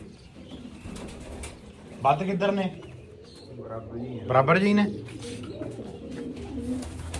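Pigeons in a loft, with cocks and hens kept apart, coo in two clear, throaty bursts over a murmur of other birds, while people talk nearby.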